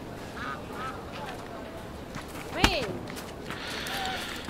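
A goose honks in a Sherlock Holmes video game, one sharp call near the middle rising over a steady bed of farmyard ambience and other animal calls, with a few faint cries before and after.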